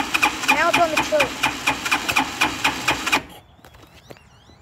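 A four-wheeler engine with a broken throttle cable cranks on choke, a rapid, steady chugging of the starter at close range for about three seconds, then it stops and only faint background sound and a brief chirp remain.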